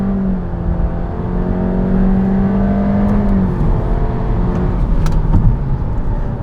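2022 Honda Civic with a 1.5-liter turbocharged engine accelerating in sport mode, a steady rising engine drone with shifting pitch and a shift partway through, heard from inside the car at moderate loudness.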